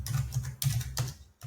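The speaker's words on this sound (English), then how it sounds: "Type it in the Gemini." Quick light taps on a computer keyboard as a short prompt is typed, a handful of soft clicks in a loose rhythm.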